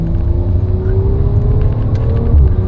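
2018 Audi RS5 cruising on the road, a steady low engine drone with a slowly rising tone over continuous tyre and road rumble, heard from inside the cabin without voices.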